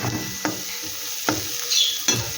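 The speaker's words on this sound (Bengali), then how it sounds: "এবার মশলাটা আস্তে আস্তে কষতে থাকো" Spice paste sautéing in a pan, a soft steady sizzle broken by three distinct stirring scrapes spaced about a second apart, close and moderately loud with no voices.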